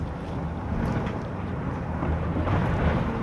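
A van driving along, its engine and road noise forming a steady low rumble mixed with wind buffeting the microphone, constant throughout with no voices.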